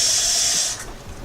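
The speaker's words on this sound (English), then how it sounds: "let me add a little water" A loud, bright hiss and sizzle as water hits a hot pan of teriyaki beef stir fry, strong at first and fading after about a second.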